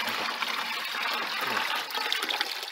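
Seawater splashing out onto a kabocha squash garden bed, a continuous rushing pour of liquid with a brief dip near the end, close and steady, no voices over it.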